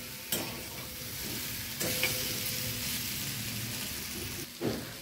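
Cauliflower frying in a pan for a spicy cauliflower and pea curry, with a loud, steady sizzle close up and a few scraping stirs of a spatula against the pan, with no voices.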